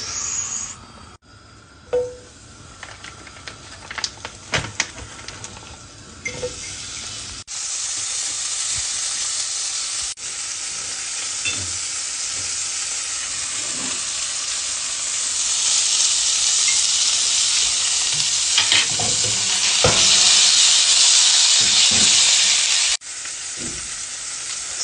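Sausage and eggs sizzle and spit in a hot pan, a steady close frying hiss with occasional pops and scrapes, growing louder toward the end with no talk over it.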